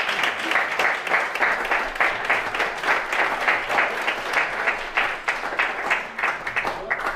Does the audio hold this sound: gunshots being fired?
no